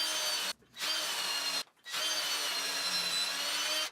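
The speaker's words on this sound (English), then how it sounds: "I proceeded to drill out the first 3 holes in the jig." A loud, close power drill boring holes through a wooden jig in three sustained bursts, separated by two short stops.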